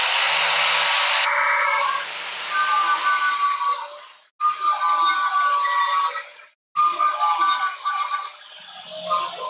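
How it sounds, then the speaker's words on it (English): A bench grinder works a forged blacksmith's knife blade, giving a loud, steady high-pitched whine with shifting tones that cuts out twice as the blade is lifted away, then resumes. "guess where I'm going? Back to the grinder again"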